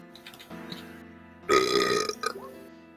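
A voice imitates the wet, gassy gurgling of a dead cow's carcass being eaten from inside by rats, a short rumbling belch-like burst that swells loud midway and breaks into bubbly sputters, heard close in a tabletop game session.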